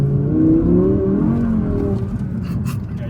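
An Audi built for drifting drives on a slippery road, its engine droning loud and steady in a close, rising-and-falling growl that eases slightly toward the end, with no talking.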